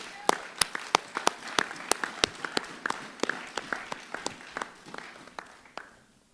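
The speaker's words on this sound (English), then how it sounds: "Let us applaud this lady" Scattered applause at an evening meeting follows a recited poem, a few sharp, distinct claps at an irregular rhythm, close and fairly sparse, fading out at the end.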